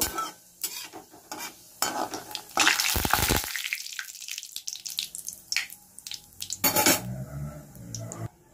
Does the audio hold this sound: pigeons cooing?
no